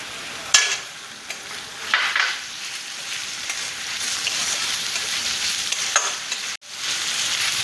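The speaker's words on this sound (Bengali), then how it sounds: "পেঁয়াজের সাথে সাথে আদা কুচি রসুন কুচি দুটোই ভেজে নেব।" Chopped onion, ginger and garlic fry in a pan, giving a close, steady sizzle with scraping stirs of a spatula and a few sharper knocks against the pan.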